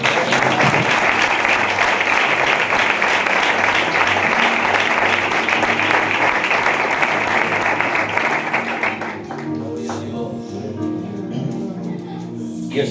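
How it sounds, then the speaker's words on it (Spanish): A church congregation applauds loudly and steadily for about nine seconds, a dense wash of many hands, then thins out to scattered claps and murmuring as the room settles. "¿Qué les parece si damos un aplauso al Señor?"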